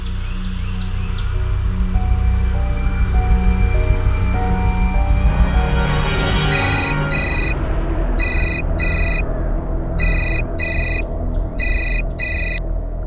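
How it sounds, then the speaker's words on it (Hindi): A telephone rings in repeated bursts of a bright electronic ringtone, loud and close, following a stretch of low rumbling background ambience. "कौन जयदीप सिंह का फोन है?"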